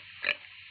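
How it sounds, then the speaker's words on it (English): A pig makes one brief, sharp grunting oink, close and isolated against a faint background hum. "This is a pig."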